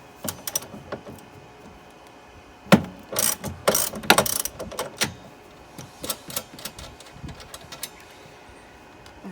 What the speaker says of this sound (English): It's a 17 millimeter, so let's just loosen that off.